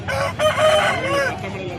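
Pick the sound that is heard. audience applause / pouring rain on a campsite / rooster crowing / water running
rooster crowing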